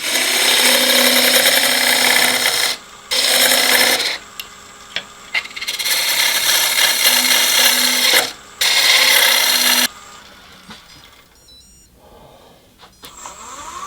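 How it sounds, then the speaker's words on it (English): Bowl gouge taking pull cuts on an elm lidded box spinning on a wood lathe, a loud continuous hissing rasp in several long passes with brief breaks, ending in quieter lathe hum and light tool scrapes. "I've moved on to the bowl gouge. It's easier to take the pull cut and round the top up."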